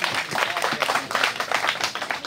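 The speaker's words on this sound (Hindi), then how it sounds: "भाई तालियां बजा दीजिए जोरदार" An audience at an all-India poetry mushaira in Delhi breaks into dense, sustained clapping, a fairly close wash of many hands with no voices standing out.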